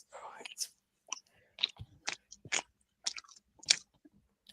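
Loud, wet chewing right at the microphone comes in irregular crunchy bursts separated by short pauses.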